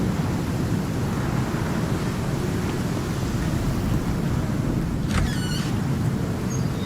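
A tier 3 thunderstorm in the survival game ICARUS: loud, constant roaring rain and wind wash with deep rumbling thunder underneath and a brief crackling burst partway through, with no voices.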